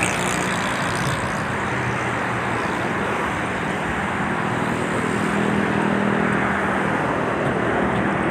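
Dense traffic rushes along the Islamabad expressway as a steady, loud roadway roar of cars and trucks passing close by, with no talk.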